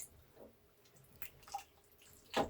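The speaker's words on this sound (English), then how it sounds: "I'm just going to add another cup of water." A cup of water tipped into a pot of potato and leek soup with pork sausage, a few faint splashes and drips ending in one brief louder pour, quiet and alone.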